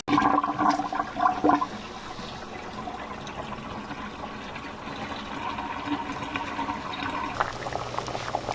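Running water splashes steadily while freshly dug potatoes are washed, a continuous close rush with brief louder splashing near the start and no talk.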